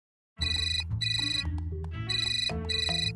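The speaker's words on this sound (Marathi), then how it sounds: "ते मी पपेदालाच फोन लावतोय बघा." A telephone rings with a bright repeating electronic trill in bursts, loud and close, cutting off and restarting across a few seconds with no talk over it.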